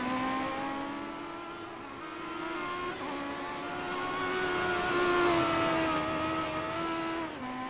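A race car engine revs hard through a lap, a steady high-pitched drone that climbs and falls with gear changes, loud and close with no one talking.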